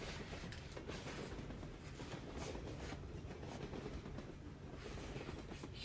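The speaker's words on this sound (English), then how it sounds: "I'm on this train to New Orleans." Steady rumble and rattle of a passenger train riding the rails to New Orleans, with faint rhythmic wheel clatter filling the whole stretch at low volume and no talking.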